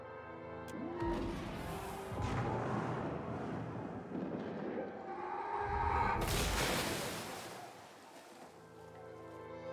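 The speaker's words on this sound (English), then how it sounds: "you hear an explosion of splintered wood, upheaved water, and incredible devastation" In Pillars of Eternity 2: Deadfire, a loud crashing burst of splintered wood and churning water surges in after rumbling, wave-like noise, then fades to a lower roar.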